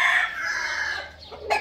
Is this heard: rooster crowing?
yes